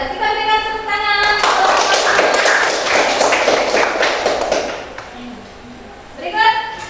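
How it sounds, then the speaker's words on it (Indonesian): A classroom audience claps for a student group presenting in a lesson; a burst of many hands lasts a few seconds between stretches of a person talking before and after. "Kita berikan tepuk tangan."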